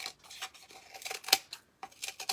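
Scissors snip in a quick, irregular series of close, crisp cuts while trimming material for a fake milkshake craft, with brief pauses between cuts and no talking.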